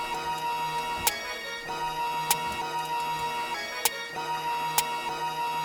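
Quiet Detroit-style sample beat loop with a snare pattern whose final hit is nudged off the grid, sharp snare cracks roughly every second and a half over a soft steady sampled bed, no voices.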